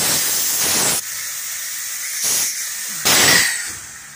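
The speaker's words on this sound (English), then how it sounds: "You can hear it venting out the bottom of the valve there" Sharp bursts of hissing air vent in three pulses from the bottom of a Wabco series E modulator valve on a Cartwright trailer brake system, loud and close, with a steady background hiss between them.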